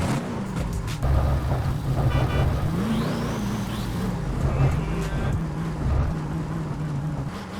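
A video game car engine starts and settles into a rumbling run, with pitch rising and falling slightly, loud and steady throughout.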